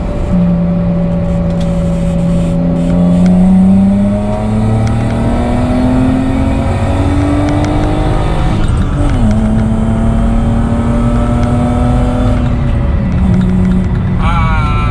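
A BMW E36 car engine revs up loudly through rising gears, its pitch climbing and dropping with each shift, heard from inside with a voice talking over it.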